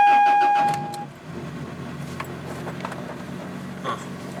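A 1990s Toyota car engine with a new battery cranks and starts, a brief chime giving way to a low idle that settles into a steady running hum.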